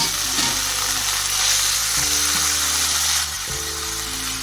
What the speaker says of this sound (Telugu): ఇది మొత్తం పచ్చివాసన పోయేదాకా వేయించుకోవాలి